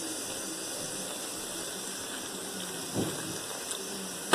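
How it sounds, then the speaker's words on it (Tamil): Hot boiled water is poured gradually into flour for kozhukattai dough, a soft, steady trickling hiss heard up close with a slightly stronger splash near the end. "தண்ணியை கொஞ்சம் கொஞ்சமாக ஊற்றி கலந்துக்கங்க"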